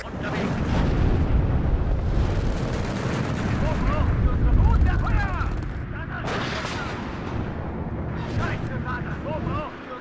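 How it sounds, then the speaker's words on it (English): Heavy artillery strikes thunder and rumble through a WARNO urban battle, the booming barrage building and then fading, with radio voices speaking over the explosions. "Feuerschlag unterwegs"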